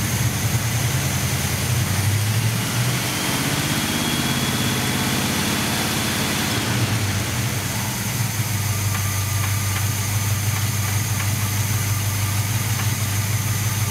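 A 1978 Chevy C-10 pickup's engine idles during carburetor tuning, a steady, loud, close low rumble with a constant hum and vibration throughout, no talking.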